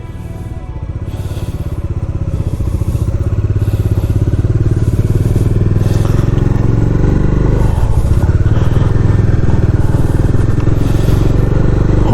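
A motorcycle engine idles and revs steadily nearby, a loud low rumble that swells over the first seconds and then holds constant.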